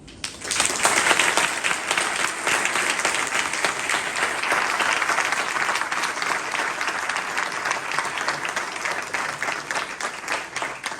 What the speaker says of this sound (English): this is the moment to thank Professor Mather with a big applause.